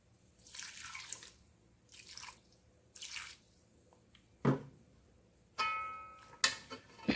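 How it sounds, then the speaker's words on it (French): Water is poured and splashed into a meat mixture being prepared by hand for an African dish, several short wet bursts and squishes separated by pauses, close and fairly quiet. "Mettre un peu d'eau."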